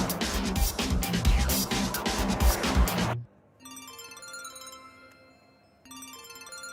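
A mobile phone ringtone plays at moderate level after a burst of louder noise, sounding in repeated melodic phrases with a brief pause before it resumes.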